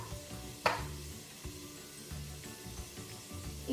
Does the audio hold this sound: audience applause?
no